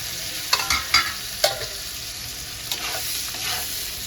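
Tomatoes tipped into a pan of softened onions frying in oil, a steady sizzle with a few sharp clattering spoon and pan knocks early on, no talking.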